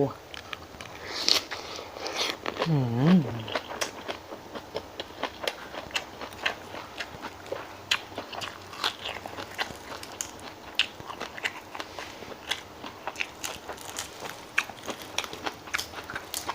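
Miang pla tu, a Thai wrap of mackerel and fresh leaves, is chewed crunchily up close with steady crackly bites throughout, while someone speaks and makes a brief vocal exclamation.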